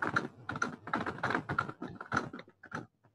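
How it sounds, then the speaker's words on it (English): Fast, steady typing on a computer keyboard, close up, with rapid clustered key clacks in bursts that slow and scatter toward the end. "Now, Joe, is that you typing?"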